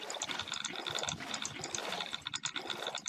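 Water flowing in a Minecraft swamp build, a continuous bubbly trickling and splashing with a rhythmic gurgle, moderately quiet and alone.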